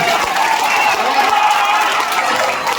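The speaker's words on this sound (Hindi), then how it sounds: "एक बार जोरदार ताली उनके लिए बजनी चाहिए" Loud, dense applause from a crowd at a college inauguration ceremony, a steady wash of many hands clapping that carries on without a break.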